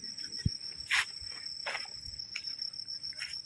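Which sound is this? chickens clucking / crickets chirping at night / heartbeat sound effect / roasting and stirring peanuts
crickets chirping at night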